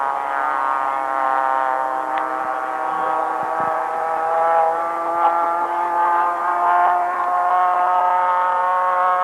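A model airplane engine, a Moki, drones steadily at high pitch, a continuous harmonic whine holding for the whole stretch with slight shifts in tone.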